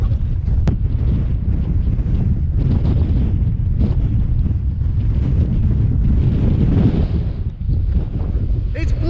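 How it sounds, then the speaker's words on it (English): Strong wind buffets the microphone on open moorland at Pule Hill quarry near Marsden, a loud continuous low roar with gusts throughout and no pauses. "It's bloody windy!"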